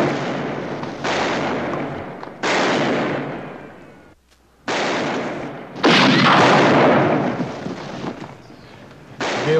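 Rapid gunfire in a western shootout, loud, close bursts of repeated shots broken by a brief lull before a denser volley.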